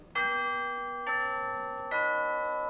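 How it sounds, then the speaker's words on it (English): Tubular bells, the chimes of a school concert band, ring out three notes in turn, each a bright metallic strike with rich overtones that hang and slowly fade, the strikes falling roughly a second apart with no talking. "So those are called the chimes or the tubular bells"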